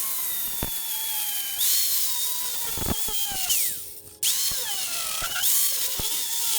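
A power tool cuts a clamped metal part in half, giving a loud, high whine that shifts pitch as the load changes and briefly cuts out before starting up again.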